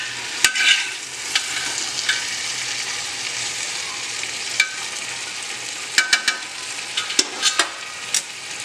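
Steady sizzling from a pan of mixed mutton, chicken and fish curry being gently stirred, with scattered scraping clicks of the spoon against the pan throughout; no talking.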